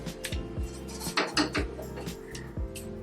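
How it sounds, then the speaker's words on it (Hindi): Iron kadhai clanking onto a stove with a few sharp metallic knocks and scrapes of pots and utensils, close and fairly loud, with no talking. "अब हम चूल्हा सुलगा के कढ़ाई चढ़ा रहे हैं।"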